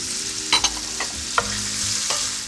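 Mushrooms go into a pan where ham is already frying, and the sizzle rises at once. A few sharp taps and scrapes of a utensil sit over the close, even hiss, with no voices.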